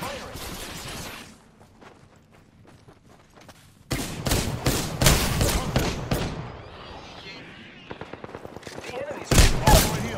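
Gunfire in Apex Legends, with bursts of loud rapid shots in clusters mixed with game sounds and a short run of evenly spaced shots near the end.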